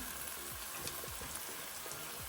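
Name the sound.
tomato frying in pan for radish sambar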